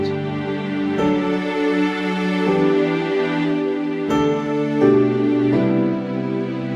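A soft, sustained string pad from a Roland Fantom-0 keyboard synthesizer plays slow, smooth chord changes, mellow and steady with no voices.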